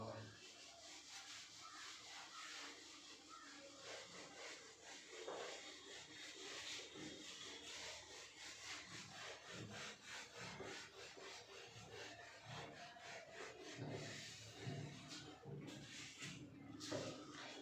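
A board being erased during a physics lesson, with continuous rubbing and scrubbing strokes, close and steady throughout, and no clear speech over it.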